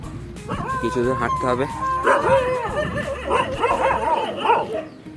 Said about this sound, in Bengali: কুকুরটা কেউ কেউ করছে